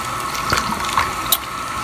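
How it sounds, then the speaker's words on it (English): Tap water runs steadily into a sink while a bleached lace closure is rinsed, a continuous close splashing hiss with a few small clinks and knocks, no talking. "she'll wash it till the water is like pink"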